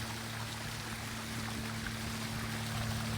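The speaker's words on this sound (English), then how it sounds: "water kind of dripping on it." Water trickles steadily into a backyard koi pond waterfall in Florida, a soft, continuous wash of flowing water with a low, constant hum beneath it and no voices.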